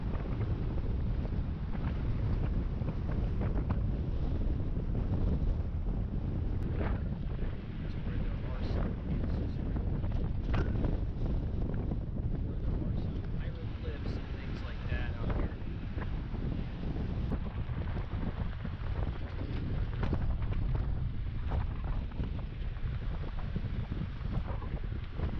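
Strong wind buffets the microphone outdoors in the canyons of Utah with constant low rumbling gusts throughout, and a voice speaks intermittently underneath.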